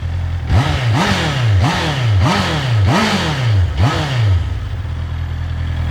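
A 2019 Honda CBR650R motorcycle with stock exhaust revs five times in quick succession, each burst rising sharply then falling back toward idle, loud and close.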